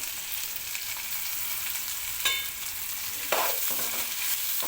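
Onions and ginger-garlic paste frying in oil in a pan for a bitter gourd dish: a steady close sizzle with a couple of brief stirring scrapes and no speech.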